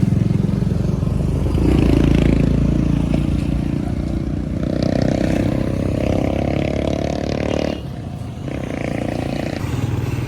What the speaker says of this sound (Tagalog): Ililipat ko na doon yung motor ah.